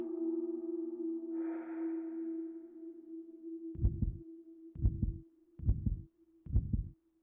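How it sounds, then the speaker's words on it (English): A heartbeat in the horror game Hellnight (Dark Messiah) thumps four times as deep, muffled double pulses, evenly spaced over a low steady drone that follows a brief airy swell. "You just have to wait until you hear the heartbeat."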